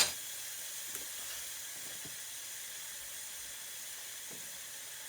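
Rice and beans for Puerto Rican arroz con habichuelas cook in a pot, giving a steady, even sizzle and hiss that holds throughout with a few faint clicks and no talking.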